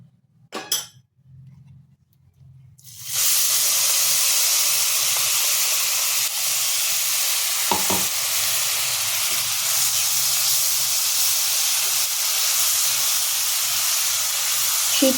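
Coriander leaf paste hits a hot pan of fried spices for a pickle or chutney. After a quiet start, a loud, steady sizzle and hiss takes over, with an occasional faint clink of a utensil.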